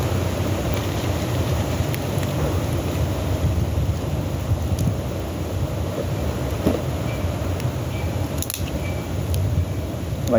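Outdoors at a campfire, wind blows in a steady, loud rush that buffets the microphone with low rumble throughout, broken by a few faint ticks and crackles.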